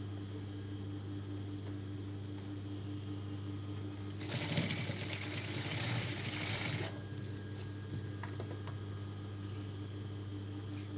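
A sewing machine stitches piping onto the back neck of a blouse in one burst of about three seconds. It rises out of a steady low electrical hum that carries on before and after the run.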